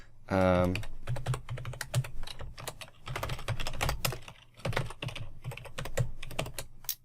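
Rapid keystrokes on a Mac keyboard while account details are entered, a steady patter of close clicks running throughout with a person talking over them.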